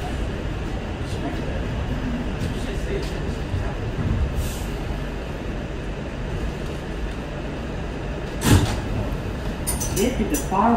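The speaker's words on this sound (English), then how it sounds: "This is a Far Rockaway bound A train." An R211A subway car running as a Far Rockaway-bound A train in New York, a steady broadband rumble and rattle with a sharp clank near the end, heard from inside while a voice speaks over it.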